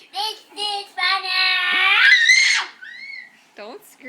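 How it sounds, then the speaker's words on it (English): A young girl screams loudly and shrilly, a sustained high-pitched squeal lasting over a second, set among short excited vocal bursts and brief squeaky cries at home. "Don't scream."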